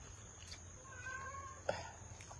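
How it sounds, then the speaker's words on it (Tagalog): Faint meows from a cat or two, brief and quiet against a low steady hum, with a sharper meow near the end. "Pero nyaw-nyaw pa rin sila ng nyaw-nyaw."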